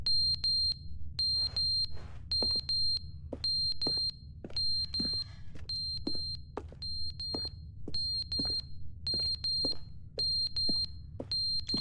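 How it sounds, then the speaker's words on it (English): A video game alarm beeps in a repeating pattern of short high electronic tones, steady and loud, over a low background hum with occasional clicks. "My alarm's going off."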